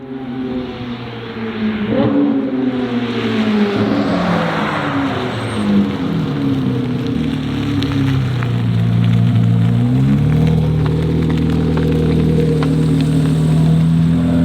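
A Porsche GT3 drives on back roads, its engine droning steadily with rising and falling pitch as it accelerates and shifts, loud and continuous throughout with no talk.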